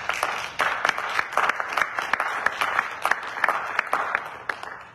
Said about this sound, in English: Can we give the Lord a hand clap of praise?